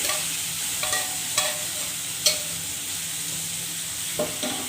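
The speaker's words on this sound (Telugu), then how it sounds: "ఇందులో వేసి మీడియం ఫ్లేమ్లో నెమ్మదిగా కలుపుకోవాలి" Fish tossed and stirred slowly in a pan of oil with turmeric, ginger-garlic paste, salt, chilli and masala over a medium flame: a steady low sizzle with a few soft scraping stirs and light spatula taps.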